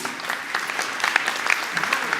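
An audience claps steadily in a continuous patter of applause, with a voice briefly audible underneath.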